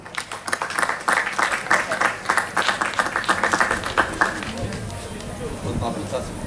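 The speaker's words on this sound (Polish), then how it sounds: "Wielkie brawa" Audience applause at an art and wine festival, a lively round of clapping with crowd murmur that peaks early, then thins into scattered claps and background chatter.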